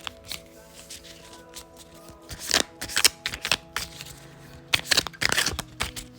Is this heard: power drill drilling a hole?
no